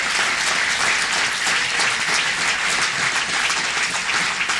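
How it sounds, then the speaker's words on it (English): Applause from the gathered audience at a city council meeting honoring a high school lacrosse state championship team, a loud, dense and steady wash of clapping that fills the whole stretch with no talk over it. "So let's have a round of applause."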